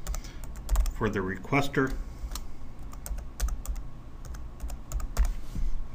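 Rapid typing on a computer keyboard, bursts of sharp key clicks close by while someone briefly speaks over them.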